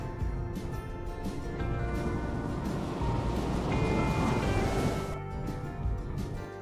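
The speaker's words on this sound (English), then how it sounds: "I put the sound of ocean waves with pirates." Ocean waves wash and surge steadily as a continuous, fairly loud roar with wind-like hiss, used as a pirate-themed sound effect, with no talking.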